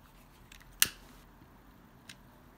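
A single sharp scissor snip cuts through satin ribbon for a handmade flower. A faint second snip follows, and the background is otherwise quiet.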